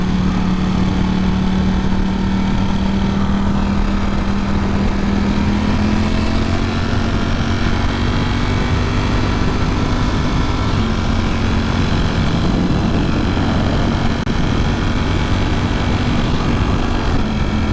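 A motorcycle engine held at steady high revs, a loud continuous drone with a rising tone, close and unbroken for the whole stretch with no talk.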